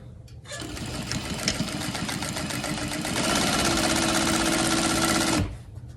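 A sewing machine stitching fabric for a handmade fabric rose, running in a steady rapid chatter for about five seconds, speeding up slightly midway before stopping, close and alone.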